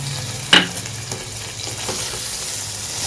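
Cooked mutton liver being stirred in a hot tawa pan with dried fenugreek, giving a sharp spatula scrape at the start, then a steady close sizzle with a few fainter scrapes.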